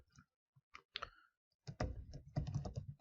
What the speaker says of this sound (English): you can definitely go ahead and hard code it by typing the values here like this